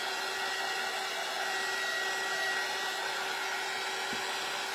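A hair dryer blows steadily and loudly on a door hanger craft, drying its thread in a continuous, even whir with a faint tonal hum and no pauses.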